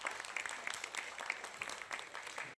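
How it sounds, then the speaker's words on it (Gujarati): An audience at a stage event claps to welcome a guest, a faint, distant patter of applause that runs steadily and then stops abruptly. "આપણે જોરદાર તાળીઓથી એમનું સ્વાગત કરીએ છીએ"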